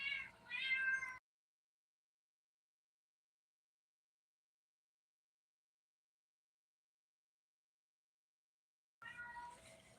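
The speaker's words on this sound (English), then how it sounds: "My cat in heat, man, and she getting to making all this damn noise" A cat in heat yowls loudly in drawn-out, wavering cries at the start, falls silent for several seconds, then yowls again.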